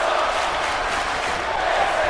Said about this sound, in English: the crowd is getting a "This is awesome" chant